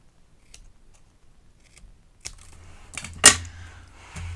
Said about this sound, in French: Je prends mes ciseaux et je viens, hop, découper sur mes traits.